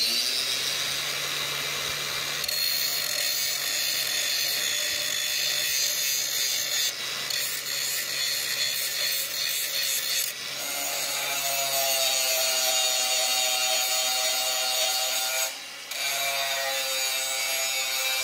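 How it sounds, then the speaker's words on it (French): Angle grinder with a grinding disc slowly taking metal off a wrench during front axle maintenance on a Massey Ferguson tractor, a continuous close abrasive whine with several brief pauses and changes in pitch. "Là je vais y aller avec la disqueuse de chaque côté, avec un disque à meuler"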